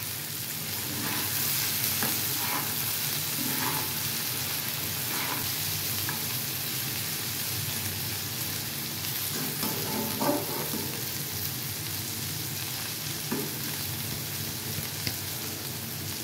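Kundli bhujiya sizzling in a pan after salt and turmeric go in, with a steady frying hiss and occasional soft scrapes of stirring, close and continuous without voices.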